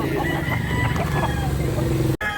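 A rooster crows among other chickens at a fowl market in Consolacion, Cebu, with steady crowd and yard noise filling the background throughout.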